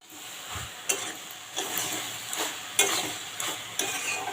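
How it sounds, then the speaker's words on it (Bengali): Ridge gourd and chickpea curry being sautéed in a pan, a gentle sizzle punctuated by about six rhythmic spatula scrapes roughly every half second to second, near and clear with no speech. "আমি কষিয়ে নিচ্ছি বারবার ঢাকা খুলে খুলে"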